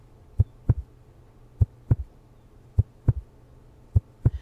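A video game heartbeat sound effect thumps in paired low beats, a steady lub-dub repeating four times, close and muffled, with nothing else around it.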